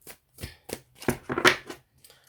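A deck of cards being handled and shuffled, with several short papery riffling bursts close by and gaps between them, and no voice over them.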